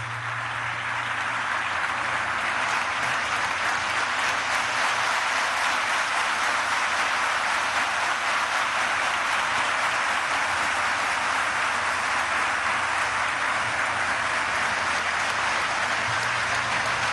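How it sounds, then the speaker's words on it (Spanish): Sustained applause from about 1,200 military cadets at a formal ceremony, a steady, dense wash of clapping that holds evenly from start to finish without voices. "los reconozca con un aplauso cerrado"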